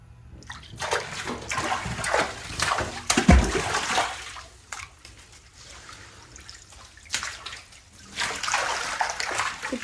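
Water splashes and sloshes as tilapia are caught by hand from a backyard home fish tank, with irregular bursts of splashing, one sharp heavy slap near the middle, and quieter dripping between.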